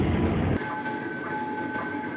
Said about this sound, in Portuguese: eu acho bem errado o trem passar ali perto do conjunto habitacional